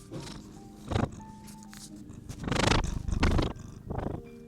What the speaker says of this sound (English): I think he's purring again.